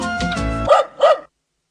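A dog in a dog food commercial barks twice in quick succession, two short, close, fairly loud yaps that follow a brief sustained tonal sound.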